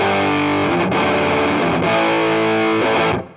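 Electric guitar through KingTone and Vemuram pedals with a little delay: loud, sustained distorted chords, changing twice, then cut off with a short delay tail.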